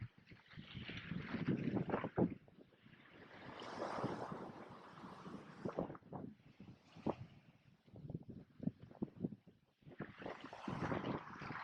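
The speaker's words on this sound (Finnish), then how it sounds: "Ihanan tuulinen täällä." Strong gusty wind buffets the microphone at a beach in loud, uneven rushes, with big breaking surf roaring underneath and no voices.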